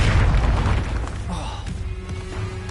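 Bombarda and Confringo explosion spells in Hogwarts Legacy, a loud booming blast at the start that rumbles and fades, followed by quieter crackling debris.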